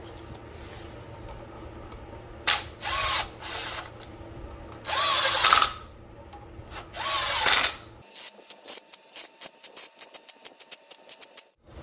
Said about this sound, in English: we're just gonna bottom this bolts out to the bottom using this impact